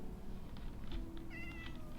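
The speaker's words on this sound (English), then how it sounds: "Hello, kitty cat." A Minecraft cat gives a short, clear meow against quiet ambient game background, with no talking.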